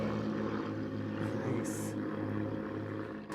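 A propeller airplane drones steadily overhead in a continuous low hum, loud and unbroken throughout, with voices talking beneath it.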